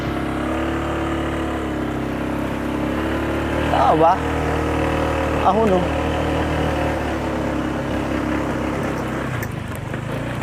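A motorcycle rides along a rough road near the parking area at Monasterio de Tarlac, its engine a steady, close drone with a few brief bumps and rattles. People talk over it throughout.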